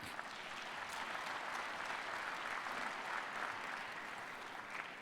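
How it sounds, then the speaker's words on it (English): Sustained applause from an audience at a conference plenary session, a dense, steady patter of many hands clapping at once, heard at a fairly low level and slightly distant, with no voices over it. "maybe a big round of applause"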